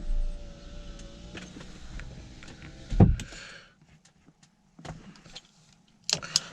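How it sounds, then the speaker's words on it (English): Rear electric window on a 2000–2004 Volvo V70 running with the ignition out, a low motor whine over the first few seconds ending in a sharp thunk as the glass seats, followed by quieter clicks and a brief later burst. "We'll open and shut the windows with the ignition out."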